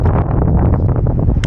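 Strong wind buffets a tarp outdoors in freezing cold, a loud continuous roaring rush with flapping and rustling bursts close to the microphone throughout.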